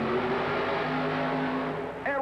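A drag racing car engine roars steadily at high revs at a 1991 USHRA race in Philadelphia, a loud sustained drone that cuts off near the end as the driver shuts the engine down a little early.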